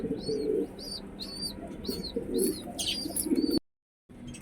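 Pigeons feed their growing chicks in a loft, with repeated soft coos and chirps in a steady rhythm and low rustling beneath, close and moderately quiet, cut off by a short silence near the end.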